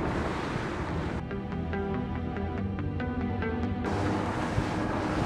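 Marlin 40 rigid inflatable boat speeding through waves at around 30 knots, with a steady roar of wind and water rushing past and a loud engine drone held throughout, close to the microphone.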